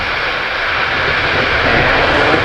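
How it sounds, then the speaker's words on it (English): A SpaceX rocket lifts off with a loud, continuous, broadband roar that stays steady and powerful throughout. "And liftoff."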